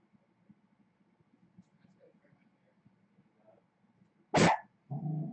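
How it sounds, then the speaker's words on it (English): A pet dog gives one loud, sharp bark near the mic, followed quickly by a second harsher bark or growl, after a stretch of quiet low background hum. "Sorry, that's my dog."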